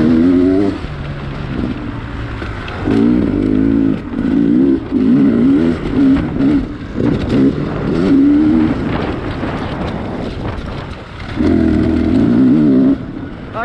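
An enduro motorcycle lapping a motocross track in Vila Boa de Quires, its engine revving up and down in repeated bursts of throttle, loud and close with short lulls between pulls.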